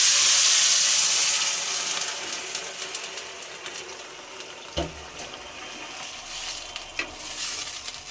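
Gobindobhog rice for egg pulao fries in a pan with a loud hiss that gradually fades into a quieter, steady sizzle, broken by a few sharp clinks and scrapes of stirring.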